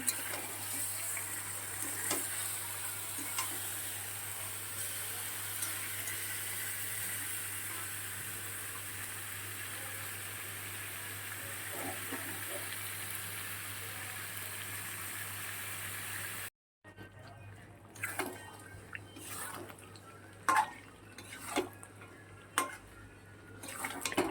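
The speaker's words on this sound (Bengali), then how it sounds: "মাংসটা ভালো করে কষিয়ে নেব।" Chicken meat frying in a pan for a home Holi meal, with a steady sizzling hiss for most of the stretch, then sharper clinks and scrapes of a spoon stirring against the pan near the end.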